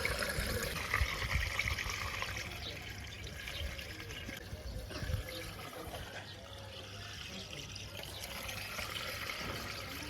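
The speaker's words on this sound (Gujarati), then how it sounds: "તો હવે ડાયરેક્ટ આખો કેરબો ઉચકીને નાખી દઈએ ટ્રેક્ટરમાં બધું ડીઝલ બરાબર." Diesel glugging and splashing from a lifted jerrycan into a tractor's fuel tank, a steady continuous liquid pour heard close up outdoors.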